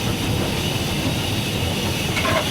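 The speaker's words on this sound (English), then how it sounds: "With the immense weight of the train, it doesn't necessarily start slowing down." Steam locomotive train running on rails, a loud, steady rumbling roar with hiss and wheel noise close by, continuous throughout without talk.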